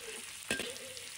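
Squid frying in a very hot pan, a steady quiet sizzle with one brief louder hiss as the pieces are flipped, no talk.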